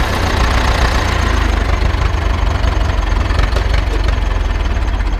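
Ursus C 360 tractor engine idling, a loud, close, steady knocking diesel chug with an even rapid rhythm throughout and no talk.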